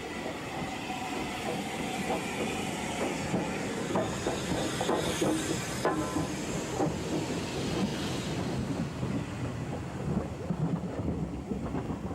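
A Bulleid Pacific steam locomotive on the Southern Region in the 1960s hauls its train along the line, a steady rumbling, hissing and clattering run heard continuously, fairly distant.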